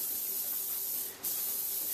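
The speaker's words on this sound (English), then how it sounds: "I'm just gonna spray the waffle maker" Cooking spray such as Pam hisses steadily onto a waffle maker, a close, continuous aerosol spray lasting about two seconds with one short pause near the end.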